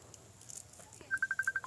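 A mobile phone rings in a rural Thai home: a short, evenly pulsed electronic tone repeating about six times in quick succession, clear and fairly close, with no talk over it.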